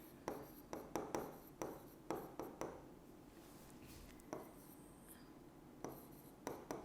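A pen writing on a board during a maths lesson, making repeated short scratchy strokes in bursts with pauses between, close and clear over a faint room hiss.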